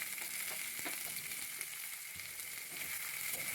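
Chopped medium onion and a dried red chilli fry in oil in a kadai, a steady close sizzle with faint stirring clicks and no talk.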